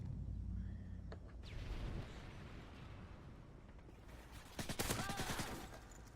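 Rapid automatic gunfire in the video game Modern Warfare 3 during a free-for-all match, a close-range weapon firing fast in short bursts, loudest near the end amid other game effects.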